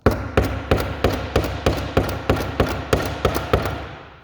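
A crimp lug is hammered onto heavy gauge battery cable in about eleven evenly spaced, sharp metallic blows, each ringing briefly before the next, close and loud with no talking.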